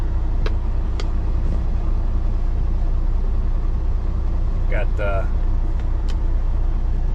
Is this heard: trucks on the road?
yes